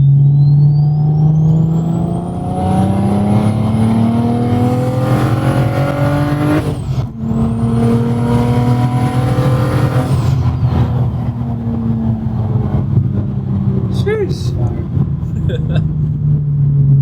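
A BMW 335i with its N54 engine converted to a single turbo, revving loudly and continuously with rising and falling pitch sweeps through the gears and a high turbo whine, close and dominant throughout.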